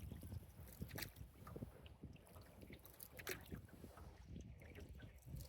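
Paddle strokes dip and splash beside a canoe on a lake, irregular soft water sloshes and drips close to the microphone under light wind, fairly quiet overall.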